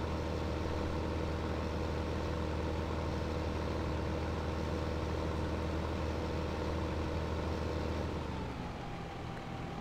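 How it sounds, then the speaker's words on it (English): A tractor in Farming Simulator 15 reverses with a constant, droning engine hum that stays loud and even, then dips and fades near the end. "Then we reverse our tractor back to where we wanted to make our turn."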